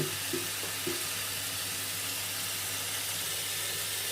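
Blackberries are washed in a sink under running water, with a continuous soft splashing and hiss of flowing water and a few light sloshes near the start.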